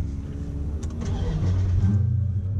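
A deep, rumbling V8 engine of a 2016 Dodge Charger R/T Scat Pack idles steadily close by, its low throb holding even with slight surges, no talking.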